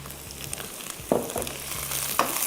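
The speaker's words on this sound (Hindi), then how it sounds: "सबसे पहला काम इसमें हमने लहसुन शामिल कर दिया, अदरक शामिल कर दिया और थोड़ा सा इसको करेंगे फ्राई" Garlic, ginger and sliced mushrooms fry in a pan with a steady close sizzle, broken by a few sharper crackles and spoon stirs, no talking.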